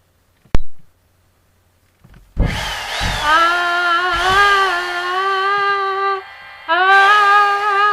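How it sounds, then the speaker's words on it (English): A power drill boring through a floor, starting with a sharp knock, then a sustained whining grind that drops away briefly and kicks back in, loud and close. "Keep singing until the guy drills through the floor."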